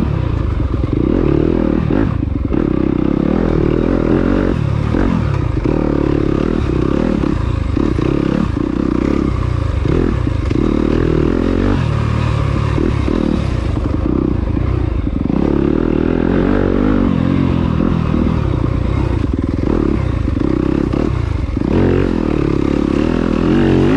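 Yamaha 4-stroke dirt bike ridden through an enduro test at an ISDE qualifier in Plantersville, Alabama, loud close engine constantly revving and surging with gear changes, along with clattering and scraping from the rough trail, no talking.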